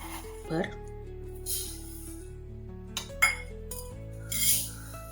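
Steel bowl and utensils clink and knock as sugar is measured in a home kitchen for Mahim halwa, several sparse metallic clinks over a steady background hum.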